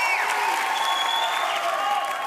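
A television studio audience at a live talent-show broadcast claps and cheers in a steady, dense wash of applause that stays at an even level throughout, with no speech over it.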